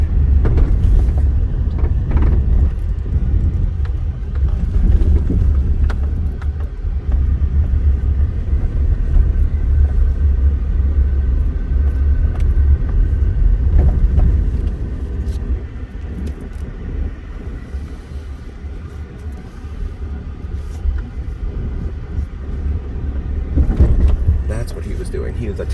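Car driving along the Las Vegas casino corridor, a steady low road rumble and engine hum from inside the vehicle with passing traffic noise, while someone talks over it throughout.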